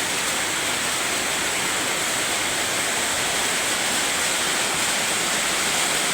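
Heavy rain pours onto a new roof in a dense, even roar of broadband hiss that holds steady and loud throughout, with no voices.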